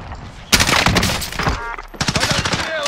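Loud bursts of rapid gunfire in a Warzone video game zombie mode crackle over a noisy battle scene, with sharp shots coming in clusters.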